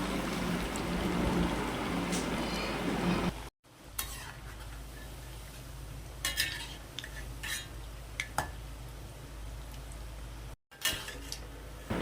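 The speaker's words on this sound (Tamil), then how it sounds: "இப்போ இதை எல்லாத்தையும் நம்ம எண்ணெயில் போட்டு ஃப்ரை பண்ண ஸ்டார்ட் பண்ணிடலாம்" Bread rolls deep fry in hot oil with a dense, steady sizzle that later thins into scattered crackles and pops, close and continuous.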